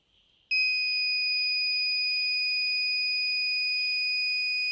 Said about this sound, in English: See, the buzzer is now activated.